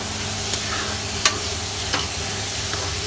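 Onions frying in oil for Mangalorean chicken sukka, a continuous close sizzle with a low hum beneath and a few faint stirring clicks.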